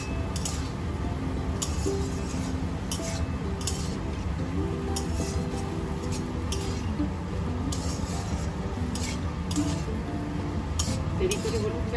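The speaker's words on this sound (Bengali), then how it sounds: "এটাকে ভালো করে আমি ভাজতে থাকবো।" Green chilli, garlic and onion cooking with Malabar spinach in a pan without oil, a dense steady sizzle broken by frequent metallic clinks and scrapes of a spatula against the pan.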